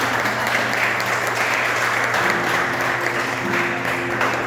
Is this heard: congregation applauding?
yes